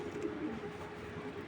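Pigeons of mixed foreign fancy breeds, including Netherlands and Belgian types, coo steadily in a loft, a low continuous murmur of several birds close by with no talking.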